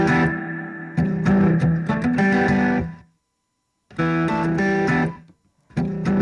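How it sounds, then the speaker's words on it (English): A guitar played through a Safari Pedals Silver Llama or Twin Panda amp plugin with reverb on, strumming chords in two loud phrases separated by a pause, with the ringing tails clearly audible and a third phrase starting at the end. "You get reverb."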